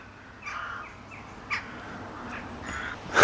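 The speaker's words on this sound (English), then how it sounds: "Whole load of crows just going overhead." A flock of crows flies overhead, giving several harsh caws at moderate distance, scattered irregularly across a few seconds over faint outdoor background.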